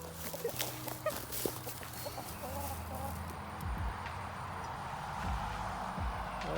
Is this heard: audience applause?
no